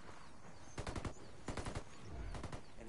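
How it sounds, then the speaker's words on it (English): Sniper gunfire in the tactical shooter game Ghost Recon comes in three short rapid bursts of sharp cracks, faint and distant in an otherwise quiet mix. "Taking heavy fire here. There's snipers shooting me."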